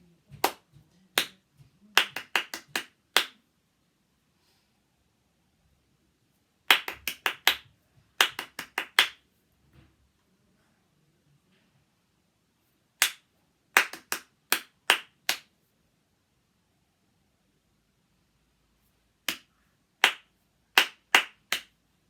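Hands clap out short rhythm patterns in a clap-back game, crisp bursts of several claps separated by pauses of silence, close and clear.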